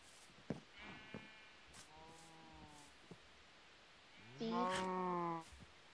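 A baby sheep in Minecraft bleats twice against faint background hiss: a soft, wavering bleat first, then a louder, longer one a couple of seconds later.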